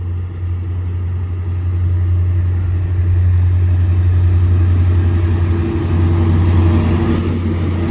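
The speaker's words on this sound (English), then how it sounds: "Now approaching for the second time is 1 Quebec 77, the 1614 service from Tunbridge West Yard to Tunbridge West Yard." A diesel-powered test train approaches at Deal on a Tunbridge West Yard circuit, a steady loud low engine drone holding throughout with a faint high whine near the start and end, and no talk.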